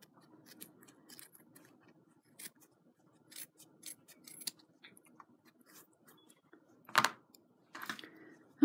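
Sharp snips of scissors trimming fabric for a small zippered pouch, a scattered series of close, crisp cuts with quiet gaps between them.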